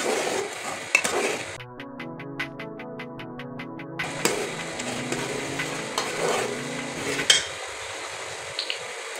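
Egg halwa (tukri halwa) mixture stirred and roasted in a pan over a medium flame, with a steady scraping sizzle, a few utensil clinks against the pot, and a brief tonal hum partway through, no voices.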